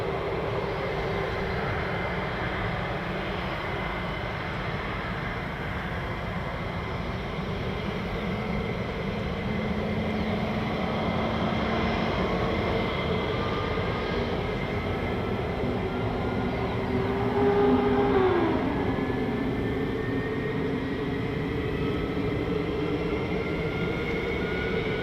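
A single fighter jet engine spooling up at RAF Lakenheath, home of F-15 and F-35 jets, heard as a steady, loud broadband roar with a rising whine partway through, with no talk.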